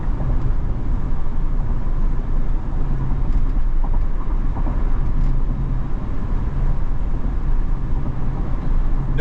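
A car cruising at around 72 mph on a freeway posted at 55, giving a steady, loud, unbroken road and engine roar from inside the cabin with no talking.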